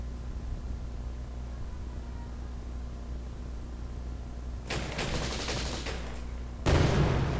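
Infantry in the WWII card game KARDS attacks, setting off a burst of game gunfire: rattling shots fill a couple of seconds, then a louder heavy blast follows, over a steady game background hum.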